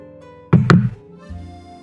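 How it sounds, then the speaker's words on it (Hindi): Fingers knocking on a classroom desk as an audio drama effect: two quick, close, hollow knocks in succession, followed by a low background hum. "उसके डेस्क को हाथों की उंगलियों से नॉक करते हुए"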